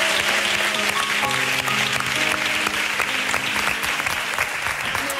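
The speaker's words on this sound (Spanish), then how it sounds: "Vamos a darle un aplauso." Steady, dense applause from a TV studio audience fills the whole stretch, many hands clapping at once without pause.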